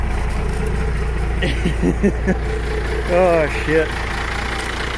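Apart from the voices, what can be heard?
12-valve Cummins diesel engine idling after cold start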